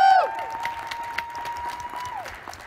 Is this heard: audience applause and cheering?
yes